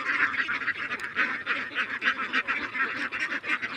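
A flock of ducks on a duck farm gives off a steady, overlapping chorus of nasal quacks and honks, loud and close, with no break across the stretch.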